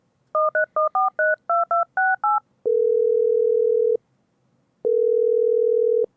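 A synth preset imitating a telephone: a rapid run of touch-tone dialing beeps, about a dozen quick tones, followed by two long steady electronic ring tones separated by a pause.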